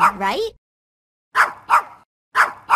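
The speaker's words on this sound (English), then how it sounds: "that puppy's barking is a low-pitched and a high-volume sound" A short spoken word is followed by four sharp puppy barks in two quick pairs, close and loud, with silence between.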